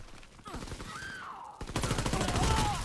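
Rapid bursts of gunfire in the Call of Duty: WWII multiplayer game on PS4 fire in quick succession and fairly loud, layered with in-game noise, with a brief swell of the game's audio near the middle.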